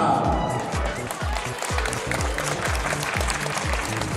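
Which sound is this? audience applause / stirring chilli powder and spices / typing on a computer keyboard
audience applause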